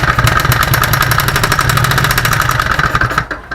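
A newly fitted engine, belonging to something called Martinha, cranks and runs loud and close with a rapid, even pulsing throb for over three seconds, then cuts out abruptly at the end.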